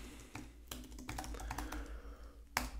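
Keys clatter on a computer keyboard while someone enters data into an Excel spreadsheet, a quick uneven run of close, crisp clicks with short pauses and a sharper tap near the end.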